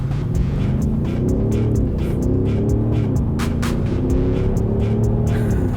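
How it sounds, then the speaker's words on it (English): An Audi SQ8 SUV in sport mode pulls hard onto a freeway from a standstill, its engine a loud throbbing roar heard from the cabin, climbing through several gear changes with a faint ticking overhead. "let's try a little 0 to 100 dash onto the freeway here and see how the Audi SQ8 handles it"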